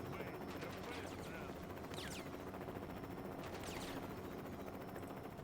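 Gunfire and artillery from the wartime strategy game Sudden Strike II, set around Donetsk with Russian separatist artillery: scattered shots and bursts over a dense, steady battle din at a moderate level, with no talk.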